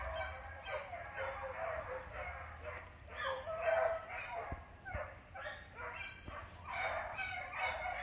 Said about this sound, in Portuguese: Vem a cachorrada